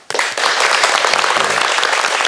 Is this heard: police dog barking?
no